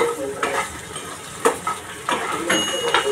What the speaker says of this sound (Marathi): मी चिरलेली भेंडी टाकते।